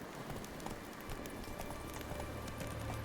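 Roach, the horse in the video game Witcher 3, gallops with rapid, steady clip-clop hoofbeats, faint and continuous throughout a short stretch.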